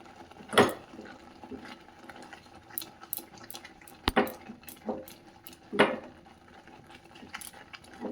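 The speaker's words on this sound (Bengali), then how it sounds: "সুজি মোটামুটি রেডি, ফুটছে" Semolina cooking in milk and being stirred, with scattered sharp clinks of a spoon against the pot over a faint bubbling simmer, quiet and close with irregular strokes.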